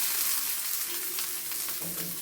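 Hot tempering poured into a cabbage chutney, Andhra style, after the gas is switched off, giving a steady, close sizzle and crackle that fades slightly toward the end, with no talking.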